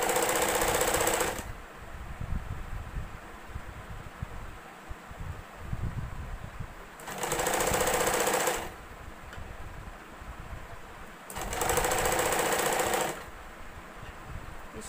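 Sewing machine stitching plain blouse pieces, running in three loud bursts of rapid, steady whirring with quieter handling and rustling between them.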